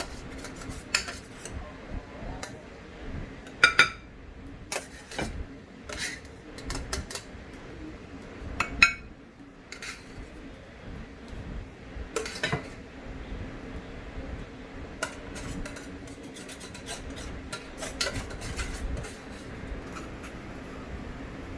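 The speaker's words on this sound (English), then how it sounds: "One spoonful at a time per plate, just to make sure that you distribute the rice evenly" A metal spoon scrapes and clinks against plates as rice is served out one spoonful at a time, sparse sharp taps and clatters scattered over a low steady hum, with no voices.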